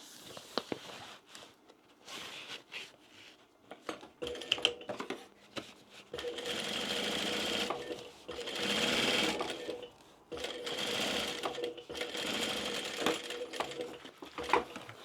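A sewing machine stitching down a fabric bag runs in several rapid mechanical bursts, close and clattering, separated by pauses filled with handling rustles and clicks.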